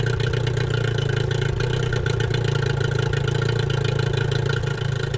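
A Yamaha 15HP two-stroke outboard motor running steadily on flushing earmuffs, a constant loud droning buzz at an even idle with no pauses and no one speaking.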